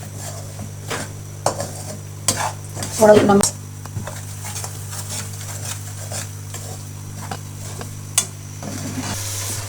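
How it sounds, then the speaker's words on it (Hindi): A spoon scrapes and stirs semolina and milk halwa in a pot, with irregular clinks and knocks against the metal over a low steady hum, and one louder scraping burst partway through; a voice speaks briefly. "आपने हलवे को जो है वो हिलाते रहना है, ताकि आपकी सारी सूजी जो नीचे लग कर जल ना जाए"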